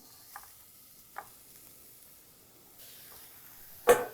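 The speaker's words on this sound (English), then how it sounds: "I'm going to let that steam for just a minute" Pastrami on a griddle gives a soft, low sizzle with a couple of brief hissing bursts of steam, then a sharper loud burst near the end, heard close and without talk.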